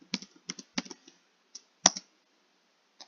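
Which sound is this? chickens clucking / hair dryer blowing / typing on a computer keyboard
typing on a computer keyboard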